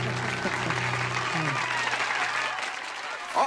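Cartoon audience applause for a contestant at a pageant-style vote, a dense wash of clapping and cheering that carries over low tonal music and fades slightly near the end.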